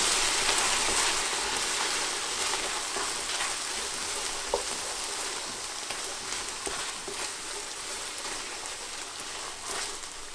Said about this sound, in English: I'm going to begin by adding just maybe 1/2 cup to deglaze the bottom of the pan